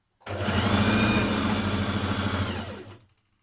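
A sewing machine basting the folded casing of a trouser waistband runs in one steady, continuous burst of about three seconds, close and alone with no talk, then stops.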